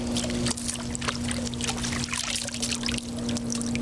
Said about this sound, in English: I'm just gonna rinse that soil off of there.